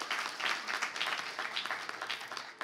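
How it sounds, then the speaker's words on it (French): Studio audience on a French-language television game show applauding, a dense steady wash of many hands clapping at once, fairly close and sustained throughout without a break. "un applaudissement pour lui"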